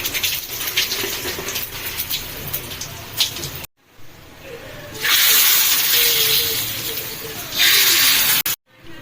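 Tempering sizzle of cumin, mustard seeds, curry leaves and dried chilies hitting hot oil for moong dal with tomato, a close, bright hiss that surges in bursts with a brief gap midway.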